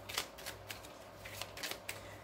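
Angel oracle cards being shuffled in quick, soft riffling bursts, several brief flutters close by and fairly quiet, with no talking.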